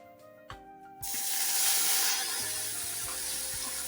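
Bay leaf and onion paste dropped into hot oil burst into a loud, steady sizzle after a quiet start, the hiss holding strong and close with no talk.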